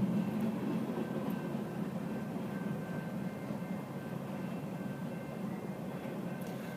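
A long train rolls steadily past at close range, a continuous low rumble and rattle of rail cars that holds at an even level with no voices over it.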